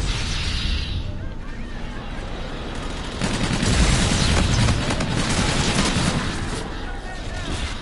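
Shotgun blasts in a video game firefight, a dense run of loud reports that starts midway through and carries to the end, with no talk over it.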